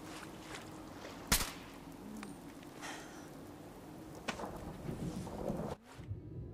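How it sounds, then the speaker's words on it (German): Rain hisses steadily over a low wind rumble in a Fallout 4 storm, with a few sharp cracks and thumps of thunder rising out of the wash before the sound suddenly drops away near the end. "Es regnet, wie man sieht."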